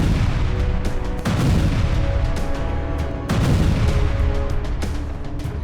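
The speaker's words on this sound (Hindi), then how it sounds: "लेबनान के रिहायशी इलाकों पर बारूद बरस रहे हैं।" Israeli bombardment strikes residential areas of Lebanon, with several loud, close booming blasts arriving at irregular intervals amid a constant heavy rumble and crackle, and no voices.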